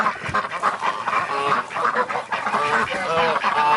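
Pekin and Rouen ducks quack in a dense, overlapping chorus, loud and close, with honking calls layered throughout in a busy pen during winter care.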